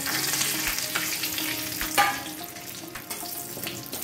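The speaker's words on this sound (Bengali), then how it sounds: "এই তেলে আমি 1 চামচ ঘি দিয়ে দিচ্ছি ফোড়নে দিচ্ছি একটু গোটা গরম মশলা দুটো শুকনো লঙ্কা দুটো তেজপাতা" Whole garam masala, two dried red chilies and two bay leaves crackle and sizzle in ghee, a dense close frying hiss with occasional sharp pops and utensil clicks.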